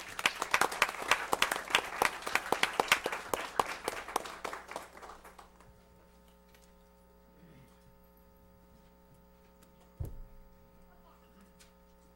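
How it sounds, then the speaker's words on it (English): A round of applause at a city council meeting: many hands clap in a brisk, dense patter that thins and fades out after about five seconds, leaving a quiet room with hum and a single soft thump. "Once again, let's have another big round of applause for Elaine."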